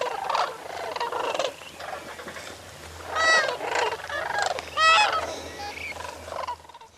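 Sandhill cranes and geese fly in to roost at sunset in New Mexico, giving a chorus of overlapping honks and rattling calls that swell and fade in waves, some calls close and loud over a distant, steady flock murmur.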